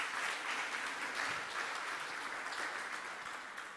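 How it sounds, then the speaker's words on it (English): Audience applause for a panel at the Namibia International Energy Conference 2023, a steady wash of many hands clapping through a hall that holds its level and then slowly tapers toward the end, with no talk over it. "Can we give them a big round of applause, everybody?"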